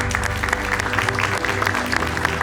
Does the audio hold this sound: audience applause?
yes